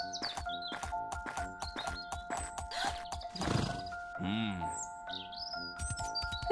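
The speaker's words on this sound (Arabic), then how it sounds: "ركب الملك والفتاة حصانهما بسرعة وابتعدا" A horse gallops away carrying a king and a girl in a fairy tale, rapid hoof clip-clops in a steady rhythm with a whinny and birdsong mixed in, fairly close and continuous.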